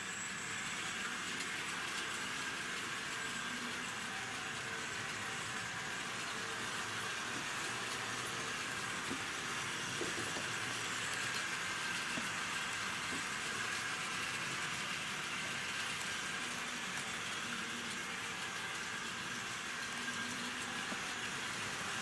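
A Tri-ang Hornby model train rolls steadily along nickel-plated Super 4 track, a continuous low rumble with faint clicking, no voices, staying even in level throughout.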